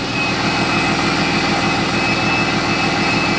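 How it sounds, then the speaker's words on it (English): A loud, steady compound-turbo diesel engine roar on a cold start, with a rough low rumble and a high turbo whine, idling continuously throughout. "That compound turbo cold start"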